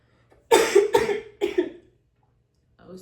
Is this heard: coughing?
yes